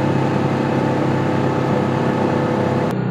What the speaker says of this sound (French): Ça commence à faire du bruit. Ouais, le moteur commence à s'entendre.